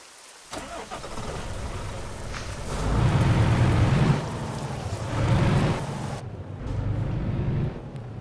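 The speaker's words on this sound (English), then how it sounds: "It's raining again." Steady rain hisses and swells in waves of loud, low rumbling like thunder, rising and fading a few times, in the video game Euro Truck Simulator 2.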